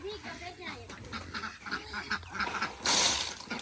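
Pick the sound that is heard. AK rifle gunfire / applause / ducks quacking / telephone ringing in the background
ducks quacking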